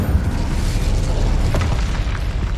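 A burst of Incendio fire spell magic in Hogwarts Legacy, a loud rumbling blast with a dense low roar and crackle that fills the whole moment without pause.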